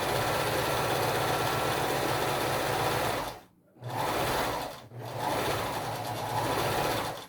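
Domestic sewing machine stitching fabric for a stuffed teddy bear, a steady rapid motor whir that stops briefly twice as the needle is lowered and the piece is turned, then resumes running.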